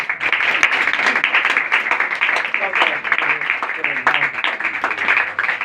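Congregation at a church worship service claps loudly and continuously, a dense, bright patter running throughout with voices talking and calling out over it.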